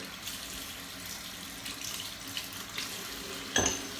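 Water runs from a tap into a sink for a post-shave rinse, a steady close splashing hiss with a sharper splash near the end, no talking.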